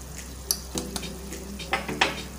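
Spice powders of turmeric, red chili, coriander and cumin stirred in a frying pan for prawn pulao, with soft sizzling under scattered scrapes and clinks of a spoon against the pan, close and fairly quiet, no talk.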